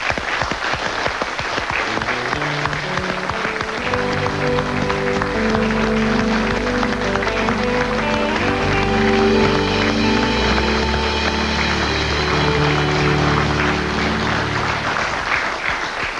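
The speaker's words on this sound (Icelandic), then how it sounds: "Við skulum gefa henni gott klapp." A studio audience gives sustained, dense applause, loud and steady throughout, with music playing underneath.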